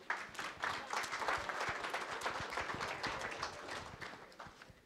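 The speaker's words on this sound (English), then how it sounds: "give him a nice little warm round of applause" Warm audience applause at a high school athletics association gathering, distinct hand claps building quickly into a moderate steady patter that gradually fades.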